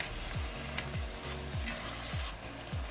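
Onions and tomatoes stewing down in a pan as the base of a Basque-style sauce, with a steady close sizzle and a rhythmic scrape of stirring roughly every half second. No one speaks.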